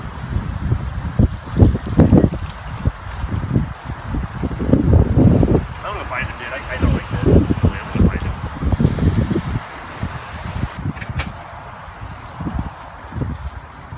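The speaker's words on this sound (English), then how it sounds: "It's windy as hell, doesn't do any good." Strong wind gusts buffet the microphone in loud rumbling surges during outdoor yard work, with people talking intermittently underneath.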